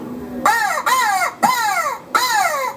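A voice imitates a crow for turkey hunting, giving four loud, hoarse caws in a steady, evenly spaced rhythm, close and clear with no other talk.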